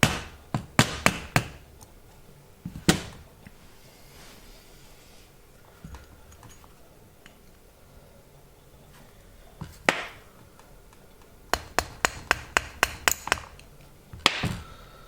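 Metal punch tapping a pin out of a 1911 pistol's mainspring housing, heard as sharp, close taps in short clusters with quiet pauses between them, the longest run of quick strikes coming near the end.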